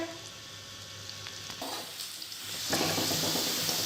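Onions fry in a pan for a bottle gourd dish, a continuous close sizzle with stirring scrapes that grows louder and brighter toward the end.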